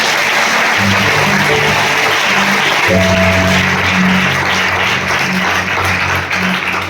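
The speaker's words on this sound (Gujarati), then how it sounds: "આપણે તાળી પાડી દેવને મહિમા આપીશું." A church congregation claps together in a dense, loud, sustained wash of applause with steady tonal music droning underneath throughout.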